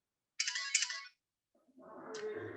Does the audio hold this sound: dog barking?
no